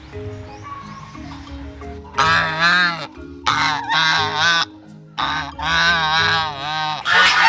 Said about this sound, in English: So we are now here inside the cage of the geese.